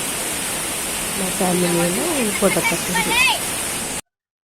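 The Krishna river flows full in the rainy season, a constant broad rushing wash like a waterfall that persists throughout while a voice speaks over it.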